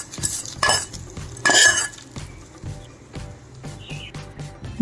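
Tempering is stirred into pulihora rice in a pot, with repeated spoon scrapes and metallic clinks against the vessel. A light sizzle sits underneath and no one speaks.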